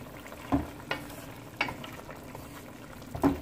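Jamaican-style stew beef simmering and sizzling in a pot, a quiet steady bubbling with a few soft stirring knocks, close by and without talk.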